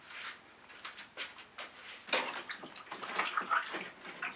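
Tap water running and splashing in irregular bursts as acrylic paint is rinsed off fingertips, close and fairly quiet, with no speech.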